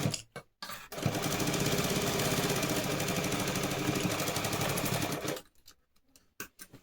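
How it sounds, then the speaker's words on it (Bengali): A sewing machine runs a steady, loud stitching burst for about four seconds while sewing a baby girl's gathered pants, with brief handling knocks before and after. "চাপ সেলাই অবশ্যই করে নিতে হবে"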